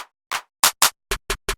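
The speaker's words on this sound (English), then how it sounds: "and this pretty heavy clap" A heavy layered clap sample for a trap beat built from several stacked sounds, hitting seven times in an uneven pattern: a first quiet hit, then bright, punchy claps with short tails, the last three tighter and deeper.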